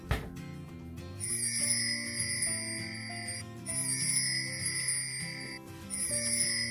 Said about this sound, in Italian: D'un tratto si sente un suono di campane.